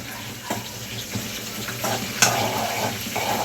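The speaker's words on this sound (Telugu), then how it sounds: "పచ్చిమిరపకాయ అనేది ఫ్రై అయితే బాగుంటుంది" Green chilies fry in a pan with a soft crackling sizzle, broken by a few scraping stirs and light clinks, close and moderately loud, with no talk.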